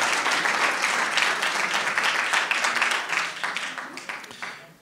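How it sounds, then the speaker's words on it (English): An academic colloquium audience applauds the professor, a dense, loud wash of many hands clapping that holds steady and then fades out over the last second. "Let's give the Prof another round of applause."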